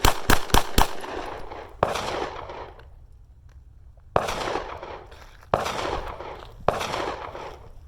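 Pistol shots from an FBI qualification drill ring out: a rapid string of four sharp cracks, then a single shot and three more spaced reports, loud and close with reverberant tails.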